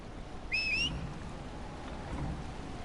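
A thunderstorm with rain in the video game Dragon Age Inquisition: a steady, low rushing wash of rain holds throughout, and a brief high whistling tone passes early on.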